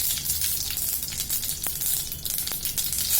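Mustard seeds sizzle and crackle in hot oil while tempering mango pachadi, a steady close frying hiss with a couple of sharp pops standing out.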